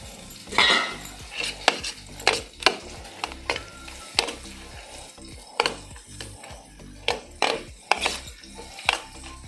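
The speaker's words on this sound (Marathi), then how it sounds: "आता या बॅटरात आम्ही भेंडी घालूया" Okra goes into a batter in a pot during Goan home cooking: a light sizzle under repeated sharp clinks and scrapes of a spoon against the pot, coming in uneven bursts.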